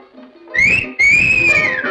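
A person whistles two long, bright rising-and-falling notes with a brief break between them, loud and close, in a Tamil comedy scene, with a low background murmur underneath.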